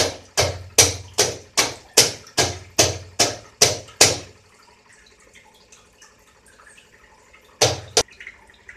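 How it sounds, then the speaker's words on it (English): Sharp, evenly spaced taps on a strainer holding kefir grains, about ten in a row, then a pause with faint clinks and a final pair of taps, close and loud. "just by tapping, you can make all the liquid come down and the grains will remain on the strainer"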